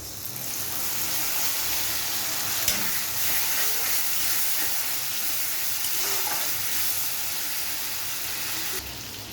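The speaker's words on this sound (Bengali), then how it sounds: "এবারে টমেটো পেস্টটা আমি দিয়ে দেবো" Softened, browned onions fry in a pan as tomato paste goes in and gets stirred for a duck egg curry, a steady close sizzle and hiss running throughout with no voices.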